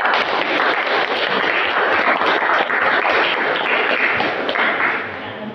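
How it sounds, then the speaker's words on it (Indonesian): A classroom of students applauds a student group, with loud, dense clapping that runs steadily throughout and eases slightly toward the end. "Tepuk tangan untuk kelompok tape."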